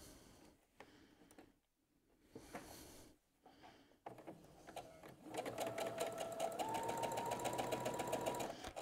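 A sewing machine stitches pieces of patchwork fabric together, its motor whirring into a fast, steady mechanical hum that builds up after a few soft handling clicks and rustles.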